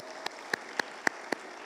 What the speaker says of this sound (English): Oh, let's clap for her